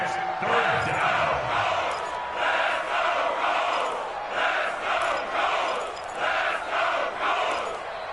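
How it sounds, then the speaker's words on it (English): Stadium crowd in a PS4 football video game, a loud swelling roar and chant that pulses in repeated waves, with a brief low whistle-like sweep near the start and no clear speech. "And the crowd getting into it as we come up on a big 3rd down."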